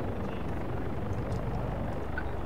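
Helicopter in a video game coming in to land, a steady heavy rotor drone filling the low end continuously and fairly loud throughout, with no voices over it.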